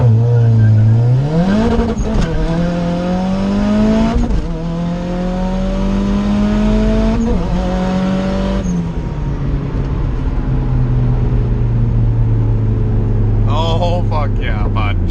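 A Honda CR-V revving hard and pulling away with its wheels spinning, engine pitch climbing through several rising sweeps before settling, with voices chattering near the end.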